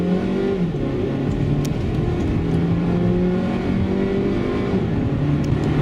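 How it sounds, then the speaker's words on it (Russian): A Mazda CX-7 2.3 Turbo running on LPG accelerates hard, its engine drone steady and loud from inside the cabin, with rising tonal harmonics across the whole stretch and no talk. "Это разгон на газе был."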